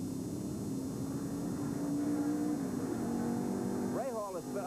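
A race car engine drones steadily from inside Bobby Rahal's car during a 1985 IROC race at Mid-Ohio, a loud constant roar that eases slightly before a rising burst near the end, with a commentator speaking over it.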